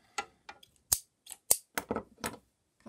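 Scissors snipping sewing thread free after topstitching a snap pouch, a cluster of crisp metallic snips and clicks in close succession, near and fairly quiet against a silent background.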